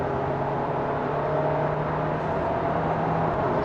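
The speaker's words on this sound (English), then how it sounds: "You can hear the gasoline engine inner bearing, right?" A 2021 Kia Sorento 1.6 T-GDI hybrid's gasoline engine accelerating at full throttle on a road drive, heard from inside the cabin as a steady, droning hum with no talking.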